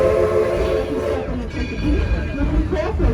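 Steam train ride at a heritage village, one of three steam locomotives run in rotation: a steady rumbling, rolling rail noise with faint high whistle tones, close and continuous, with voices talking over it.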